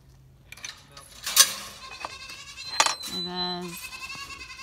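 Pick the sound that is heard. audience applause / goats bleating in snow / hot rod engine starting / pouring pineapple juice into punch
goats bleating in snow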